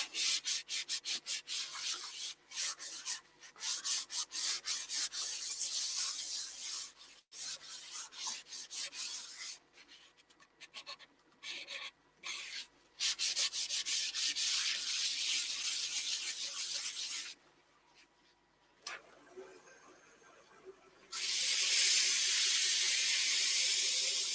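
A wooden vase turning on a lathe is polished with Yorkshire Grit abrasive, giving loud, close rubbing and hissing friction in bursts separated by brief pauses, ending in a steadier high-pitched whine.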